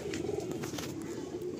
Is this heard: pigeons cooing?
yes